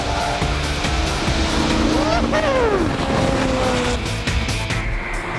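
An Ariel Atom sports car's engine roars close by, its revs rising and falling in sweeping pitch changes, with a voice talking over the noise.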